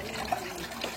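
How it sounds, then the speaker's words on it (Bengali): Water filling an LG front-load washing machine, a soft steady trickling wash with a couple of faint knocks as the drum turns. "তো এখানে জল নেওয়া আরম্ভ হয়ে গেছে, জল নিচ্ছে আর ড্রামটাও কিন্তু এখানে ঘুরছে।"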